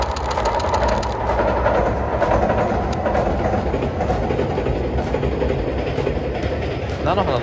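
A Nanpu limited express, a 2000 series diesel railcar, runs past a rural line through spring rape blossoms, its steady rumble and wheel clatter filling the whole stretch, with faint talk in the background.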